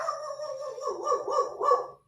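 A dog barks in a rapid run of yips and bow-wows, fairly close and moderately loud, with no talking over it.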